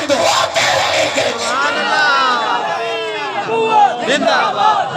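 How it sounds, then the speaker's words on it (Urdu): At a Khatm-e-Nabuwat religious gathering in Layyah, a large crowd chants slogans loudly in rising and falling waves of massed voices, like a call-and-response rally. "تاجدار ختم نبوت زندہ باد کے نعرے بلند ہوتے رہیں گے۔"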